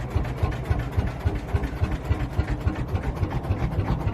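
A tractor engine idles at very low revs, a steady slow low chugging with regular pulses, close and continuous with no talk.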